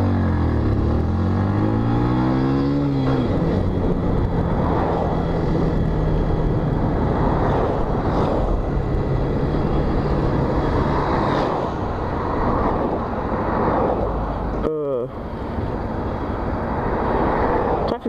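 Road traffic near a busy junction with roadworks rolls past in a steady roar, with engines revving and individual vehicles sweeping by close up, under ongoing talk.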